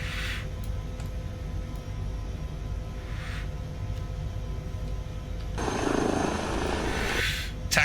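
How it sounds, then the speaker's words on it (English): Steady engine roar with a thumping rotor drone, swelling louder near the end as an Airbus H160 helicopter taxis nearby. "taxiing a helicopter"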